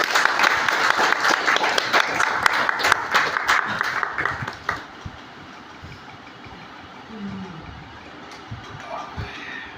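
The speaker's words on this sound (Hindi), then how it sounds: "चलिए अपने पूरे लोगों के लिए एक जोरदार ताली।" Audience applause after a motivational talk on earning family trust, loud dense clapping for about five seconds that then fades into quieter room noise with scattered claps.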